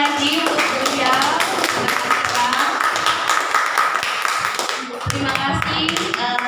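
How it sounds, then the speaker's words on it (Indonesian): Audience applause at a school teachers' gathering, a dense wash of many hands clapping steadily for several seconds, with a slight dip near the end before the clapping swells again, and voices faintly mixed in. "mungkin bisa diberi aplaus sekali lagi untuk beliau"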